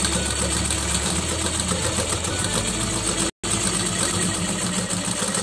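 A sewing machine stitches fabric at a tailoring class, its motor running in a steady, loud mechanical whir with a fast rhythmic chatter throughout, cut by a brief dropout midway, with no one speaking.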